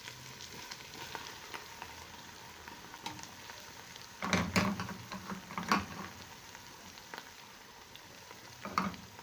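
Egusi (ground melon seed) frying in salted oil with well-cooked onion, a low steady sizzle with several louder bursts of crackle as it is stirred in the pan.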